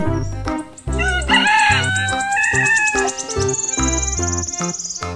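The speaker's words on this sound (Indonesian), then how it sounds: "Nah, itu adalah ayam jago teman-teman." A rooster crows loudly and close by on a farm, its long wavering call rising and holding, over steady background music.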